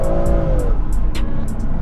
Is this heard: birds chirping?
no